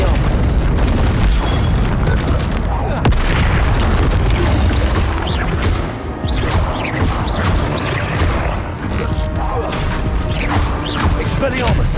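Hogwarts Legacy combat with an Expelliarmus spell brings repeated loud booms, crashes and magical bursts over a dense, busy game soundscape, with speech-like game voices mixed in.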